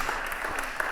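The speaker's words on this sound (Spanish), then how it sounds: "un aplauso para ellos cuatro" Brief burst of audience applause for four panelists at a marine heritage forum, an even wash of many hands clapping at moderate distance.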